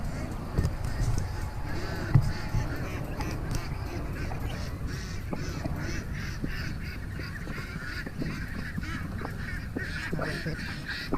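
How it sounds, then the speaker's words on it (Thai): Farmed ducks kept at a household duck-raising yard quack steadily in a busy, overlapping flock, close and loud, with scattered sharper calls and occasional voices mixed in. "เป็ด"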